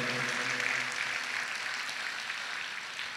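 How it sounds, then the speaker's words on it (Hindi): A spiritual gathering claps together in a dense, even wash of applause that starts full and eases slightly toward the end, with no talking. "एक बार सब एक दूसरे के लिए तालियों की गड़गड़ाहट कर रहे हैं।"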